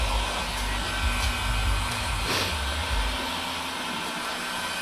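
A heat gun or hair-dryer-style blower warming tint film on an Audi A5 headlight gives a steady, close, moderately loud whooshing hum with little variation.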